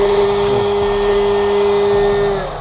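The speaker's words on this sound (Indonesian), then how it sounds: "Mau airflow-nya maksimal, segini kencengnya." A home coffee roaster's fan blows at maximum airflow, giving a loud, steady whooshing drone with a constant high tone that runs unbroken for the whole stretch, alone without any voices.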